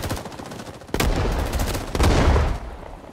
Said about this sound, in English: Contact. Enemy fire.